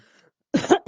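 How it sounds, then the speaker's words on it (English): A person with a lingering cough gives two or three short, close coughs after a moment of near silence, loud and abrupt. "Still have a cough going on"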